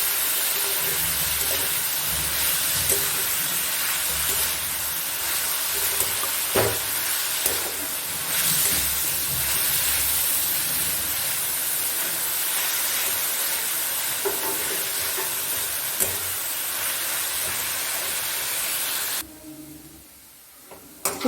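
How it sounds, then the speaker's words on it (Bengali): Vegetables and soybeans fry for a street-style veg chow mein with a loud, continuous sizzling hiss and occasional stirring clatter, cutting out abruptly near the end. "সবজিগুলো ভাজা হচ্ছে"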